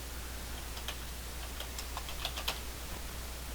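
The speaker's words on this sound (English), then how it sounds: "So you have to know what you're typing." Computer keyboard typing entering network router commands, a sparse run of light clicky keystrokes clustered near the middle, close but quiet over a steady low hum, with nobody speaking.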